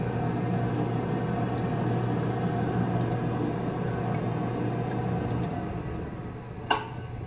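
An old-style Hobart mixer mixing pizza dough with olive oil gives off a steady, continuous motor hum and churning drone, with a brief clink near the end.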